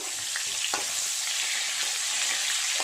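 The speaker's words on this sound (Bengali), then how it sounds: "এই পাশটা হয়ে গেছে, উল্টে এই পিছন দিকটা ভালো করে ভাজা করে নেব।" Pointed gourd fries in hot oil with a constant close crackling sizzle and a faint tap or two of a utensil, no speech.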